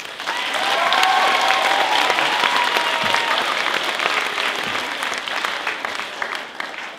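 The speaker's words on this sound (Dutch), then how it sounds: "applaus alsjeblieft" Sustained applause from a school musical audience, steady dense clapping that swells early and continues throughout, with no talking over it.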